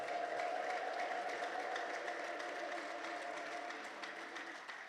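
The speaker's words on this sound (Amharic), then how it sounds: "ማን ነው እልልታ ጭብጨባ ክብር ለኢየሱስ ያለ?" Congregation at a church service applauding with ululation, a steady sustained wash of clapping and trilling voices that fades slightly toward the end.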